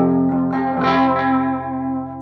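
A guitar run through an effects pedal set as a chorus sustains a thick, shimmering chord, with a bright strum swelling near the middle before slowly fading, loud and close with no talking.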